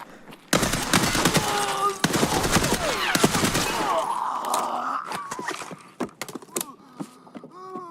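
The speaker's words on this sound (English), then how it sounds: "Pretty sure they're shooting at me through the wall." Rapid bursts of video game gunfire fired through a wall, loud dense volleys in the first half giving way to scattered shots and clanks, with no talk over it.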